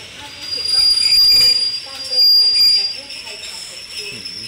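Thai express train 112 pulls into Chum Saeng station. Its wheels give a long, high, thin squeal that rises and fades, over a low rumble of the moving cars.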